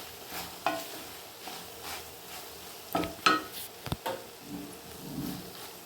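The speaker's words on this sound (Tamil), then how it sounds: "இதையும் சேர்த்து நல்லா வதக்கிக்கோங்க." Tamarind pieces and okra sautéing in a pan, with a soft, low sizzle under repeated scraping and stirring strokes, plus a few sharper utensil knocks near the middle.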